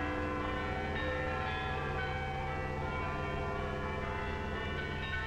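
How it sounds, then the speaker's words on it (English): Church bells in Britain ring continuously, their overlapping tones forming a dense, steady wash heard from some distance. "Once more, the people of Britain heard their church bells ring."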